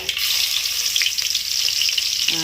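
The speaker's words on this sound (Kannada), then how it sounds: "ಬೆಳ್ಳುಳ್ಳಿ ಹಾಕ್ಕೊಂಡು ಇದಕ್ಕೊಂದು ಸ್ವಲ್ಪ ತಿರುಗಾಡನತ್ರಿ" Garlic sizzling in hot oil in a village kitchen while being stirred, a steady close crackle with small scraping pops throughout, no voices.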